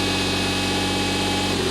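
Kubota D1703 diesel engine running in a stand-on skid steer, a steady, loud, continuous low rumble that holds even throughout with no one talking.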